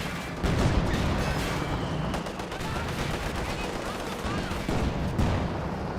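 Dense artillery barrage mixed with rapid gunfire in the WWII strategy game Company of Heroes 2, a continuous loud wash of booms and crackling shots with a voice talking over it.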